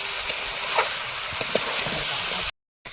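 Steady broadband hiss of mutton curry with fried potatoes sautéing in a pan, with a few faint clinks, then a brief cut to silence near the end.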